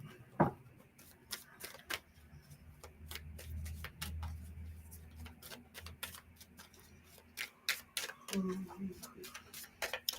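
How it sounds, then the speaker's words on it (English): Oracle cards being shuffled by hand during a spiritual reading: a quiet series of crisp ticks and riffling snaps, scattered irregularly and grouped at the start and end, with low murmuring underneath. "Shuffling the cards for a minute to get my mind back focused again."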